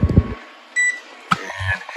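A kitchen timer is set with a few short electronic beeps, a brief tone near the start and a sharper press-and-beep a little later, heard close and alone in a quiet kitchen.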